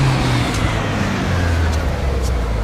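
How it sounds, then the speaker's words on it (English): A small hot hatchback engine drones steadily while driving, with low road and tyre rumble and a constant engine note throughout, no voices. "Funny sort of engine note, though."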